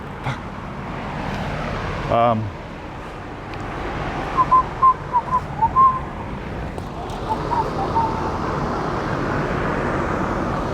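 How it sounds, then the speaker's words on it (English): A person whistles a few short, bright notes while working in a steel sculpture workshop, heard over steady background workshop noise, with a brief knock early on. "by now you're going to have noticed that I whistle when I work"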